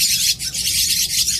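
Buffalo myna (jalak kebo) chicks being hand-fed, giving a rapid, continuous stream of shrill, high begging chirps close up, with a brief dip partway through.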